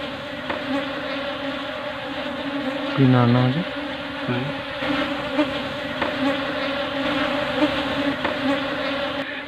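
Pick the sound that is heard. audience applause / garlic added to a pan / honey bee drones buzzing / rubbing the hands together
honey bee drones buzzing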